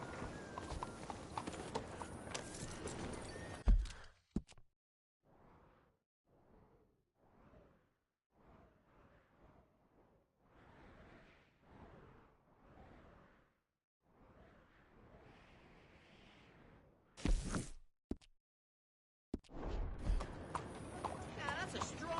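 Horse hooves clip-clopping at a steady rhythmic walk while riding in Red Dead Redemption 2, fairly close and moderate in volume, with spoken game dialogue before and after.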